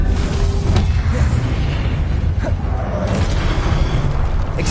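A fire spell is cast again and again in the Hogwarts Legacy game, giving a dense, loud stretch of whooshing bursts and rumbling booms that overlap continuously, with no gaps.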